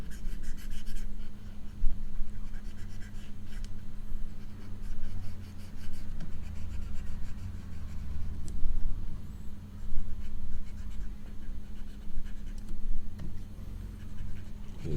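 Pencil drawing a figure's lower body on paper: continuous close scratchy strokes of graphite over a steady low room hum, with no talking.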